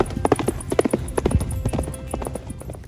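Horse hooves clip-clop rapidly and close by during a riding session, a quick uneven rhythm of sharp hoof strikes with light rustling in between.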